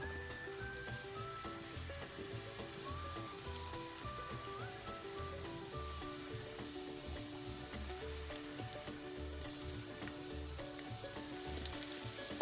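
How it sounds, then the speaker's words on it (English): Mutton snapper fillets fry in a hot pan with a steady, even sizzle and light crackle held at a constant level throughout, no voices over it. "Gonna cook it probably 3-4 minutes on each side until they're lightly brown, and then we'll flip them over and do the other side."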